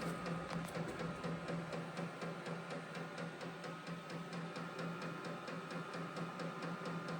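A Vevor diesel heater turned up to its high setting runs with a steady mechanical whir and a fast, even ticking pulse from its pump. The sound is fairly close and continuous, with no talk over it.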